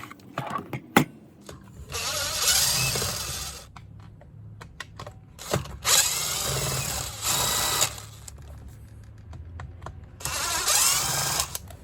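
A power drill whirs in three sustained bursts, each a few seconds long, while it backs screws out of a Toro string trimmer head casing. Short clicks and handling knocks come between the runs, and the drill sounds close and moderately loud.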